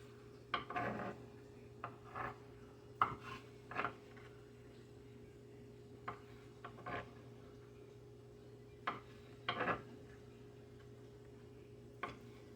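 A knife dicing ham into small pieces on a cutting board, quiet irregular taps and short scraping chops spaced a second or so apart over a faint steady hum.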